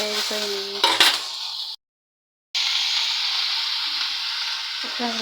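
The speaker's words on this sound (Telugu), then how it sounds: "వంకాయ ముక్కలు వేస్తున్నాను" Eggplant pieces going into a hot pan, with bright steady frying sizzle and a clink of utensils, cut by a brief full silence before the sizzle resumes alone.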